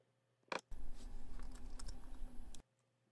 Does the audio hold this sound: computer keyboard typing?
yes